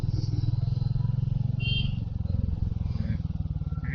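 A motorcycle on a weekend ride to Alibag threads through bottlenecked traffic on a narrow road, its engine a steady throbbing drone throughout while a rider talks over it and brief horns sound nearby.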